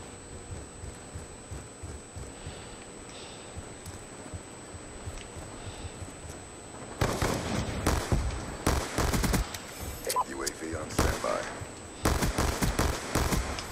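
Gunfire in the video game Call of Duty Black Ops 2 with a pistol and a Ballista sniper rifle, starting about halfway through as loud bursts of sharp shots, some in rapid succession, after a quieter stretch of game ambience.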